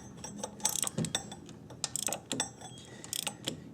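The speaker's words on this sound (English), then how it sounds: "so now I'm just tightening them down." A hand ratchet clicks in quick irregular bursts while the power steering pump bolts on a 2005 Honda Odyssey are tightened, close and fairly quiet, with short pauses between strokes.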